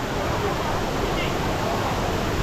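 Close, steady roar of Kumari Ella, a modest waterfall in Seethawaka, with a crowd of bathers nearby. The broad watery rush stays loud and even throughout and masks any voices.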